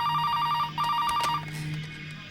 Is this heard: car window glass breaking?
no